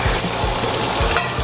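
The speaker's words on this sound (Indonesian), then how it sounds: "Ini saya goreng sampai ini ya, sampai sedikit agak kering ya" Ingredients frying in a pan for a spicy chicken, potato and green bean dish, cooked until slightly dry: a steady, close sizzle and bubbling hiss with soft pops, running on its own without talk.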